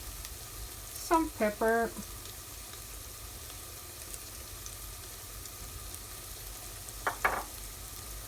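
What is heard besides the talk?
seitan mince sautéing in pan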